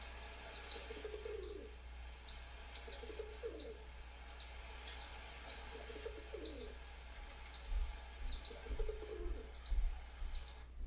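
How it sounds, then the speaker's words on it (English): A recording of a common pigeon plays back, giving several soft low cooing phrases spaced a couple of seconds apart, with brighter clicks and chirps scattered above them, all fairly faint, with no one speaking. "we can click the pigeon, which is a common bird, and then you can click on sound down at the bottom"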